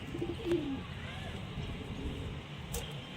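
Pigeons coo softly in a short low phrase near the start, faint under steady outdoor background noise, with a brief sharp sound later on.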